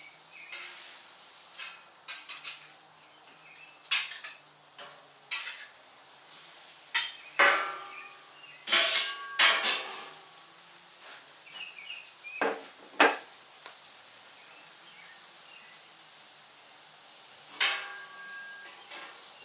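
Sausage patties sizzle on a Camp Chef FTG600 flat top grill, a steady soft frying hiss broken by scattered spatula scrapes and taps, nearby and moderately quiet with no talk.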